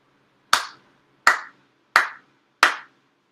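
Four deliberate ritual hand claps at a prayer service altar, each sharp and resonant, evenly spaced and alone in a quiet room.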